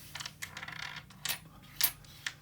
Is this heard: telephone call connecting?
no